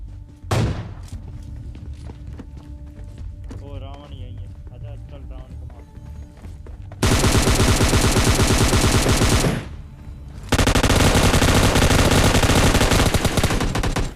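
M249 machine gun bursts in a video game, heavy sustained automatic fire in two long loud volleys after quieter in-game ambience with a few scattered shots, a voice talking over parts of it.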